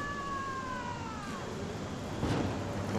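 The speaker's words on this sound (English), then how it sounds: "that sounded like a cat to me" A cat meowing in the video game Dying Light, one drawn-out, wavering, downward-sliding meow heard moderately loud over a steady background drone.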